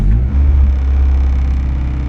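A 1993 Honda Civic hatchback engine catches and settles into a steady, deep idle rumble, loud and close with no break.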